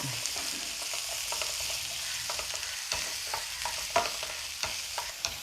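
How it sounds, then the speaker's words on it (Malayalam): Sliced onion sautéing in oil in a pan for a homemade sausage dish, a steady close sizzle broken by regular scraping stir strokes, no one speaking. "സവോള ഇങ്ങനെ നന്നായിട്ടൊന്ന് വഴന്ന് വരട്ടെ"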